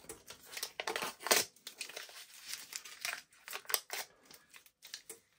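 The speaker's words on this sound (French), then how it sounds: "Des bouts de scotch qui résistent." Adhesive tape (a lot of it, resisting) is peeled away in short, crackly ripping bursts with brief pauses between pulls, close and fairly quiet.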